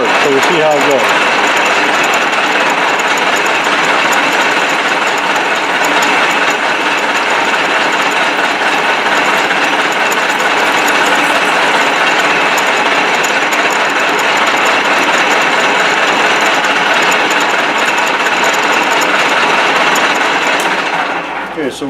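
Continuous loud grinding and whirring of a machine tool facing off an aluminum part, steady throughout with no pauses.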